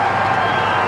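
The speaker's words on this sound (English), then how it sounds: "Listen to the appeal of the crowd." A cricket crowd at a T20 match roars in a loud, sustained appeal, a dense wash of many voices filling the whole moment without a break.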